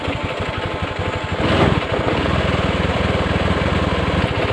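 A 2014 Honda Scoopy FI scooter engine catches after the starter and runs, a rapid, even putter close by with a brief rise as it fires, then settles into a steady idle with no talking.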